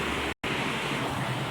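Heavy rain, falling without letup for two hours and flooding the road, pours down in a dense, steady roar of broadband noise, broken once by a split-second dropout.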